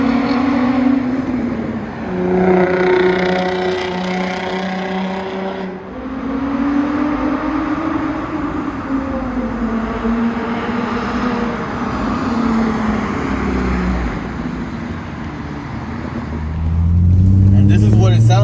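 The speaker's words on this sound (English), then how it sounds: "We are going to show you guys what the exhaust sounds like through that tunnel." Modified Infiniti G35 coupe with an aftermarket exhaust driving through a tunnel, its deep engine drone rising and falling through several revving pulls, echoing and loud, with a heavy close rumble swelling near the end.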